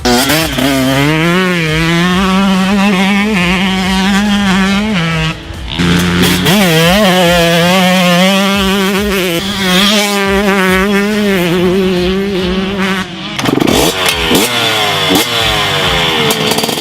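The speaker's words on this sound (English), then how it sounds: "KTM has been developing and progressing their 125cc model." A KTM 125cc two-stroke motocross bike rides hard and revs, its high buzzing engine climbing and dropping through repeated throttle sweeps, loud and close, with a brief lull near the middle and another before the end.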